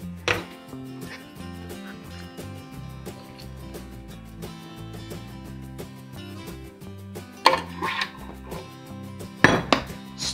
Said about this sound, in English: Stirring it up.